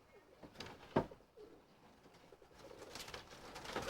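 Trained pigeons or doves on a patio cooing softly, low and faint, with light rustling and a brief knock amid background noise.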